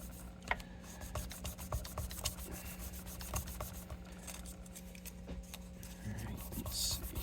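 A Telecaster guitar part is sanded by hand with a continuous gritty rubbing, broken by repeated strokes and small taps, over a low steady room hum.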